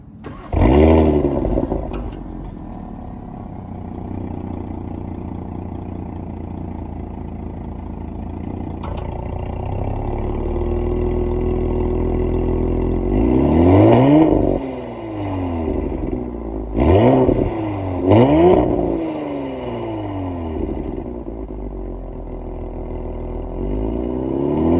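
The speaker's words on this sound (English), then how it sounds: "they want you to hear this V6, which is very neatly packaged inside of the engine bay" A 2024 Audi SQ5's V6 engine idling in a steady low hum, then revved several times, the pitch sweeping up and falling back in distinct surges, with no talk over it.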